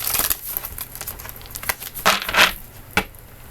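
Papery rustling and crisp flicks of tarot cards being shuffled close up, in uneven bursts with a few sharper snaps.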